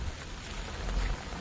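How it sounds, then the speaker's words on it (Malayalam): Heavy rain falls steadily with dense, unbroken hiss and a low rumble underneath, fairly loud and close, with no other sounds standing out. "കാരണം നല്ല മഴയാണ്."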